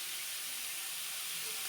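Small kechki fish frying in a little oil in a pan while being gently stirred, a steady soft hiss and sizzle throughout, fairly faint and even with no voices.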